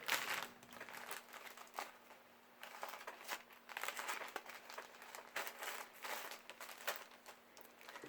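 New Mex Sunglow pepper seeds are put into a bag, which gives soft, close crinkling and rustling in irregular bursts over several seconds.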